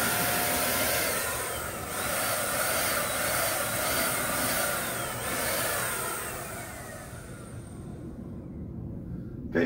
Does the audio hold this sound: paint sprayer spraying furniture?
yes